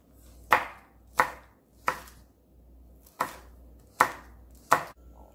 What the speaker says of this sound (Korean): 물고추, 홍고추 썰어주세요.